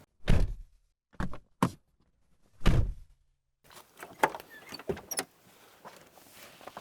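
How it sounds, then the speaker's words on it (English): A Land Rover Discovery 1 door being handled: several sharp thunks and clicks of the handle and latch, then a busier stretch of rattling, creaking and knocking as the door swings open, fairly close with no talk. "I'm still getting used to your door handles, eh? That opens sideways."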